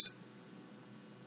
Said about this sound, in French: Et je clique ensuite dans du blanc.